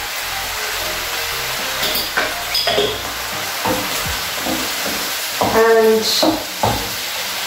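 Beef sizzles as it hits hot oil in a pot for Ugandan stew, a steady frying hiss with stirring clatter and a brief spoken word over it.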